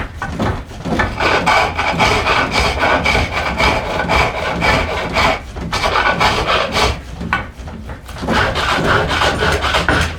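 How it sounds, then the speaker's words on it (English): A skew chisel scoring and cutting a wooden stile for a joined stool on a lathe, a loud close rasping scrape of steel on spinning wood in repeated bursts with short pauses, no talk. "alternating between scoring it with the skew held pretty much vertical and then cutting to that scored mark"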